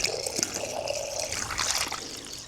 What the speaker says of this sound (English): I'll just see if I can get some water to go into the block.